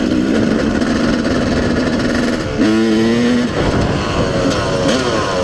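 A Suzuki RM-Z four-stroke dirt bike engine revs loudly and steadily up close, its pitch climbing as it accelerates, then holding a throaty drone throughout.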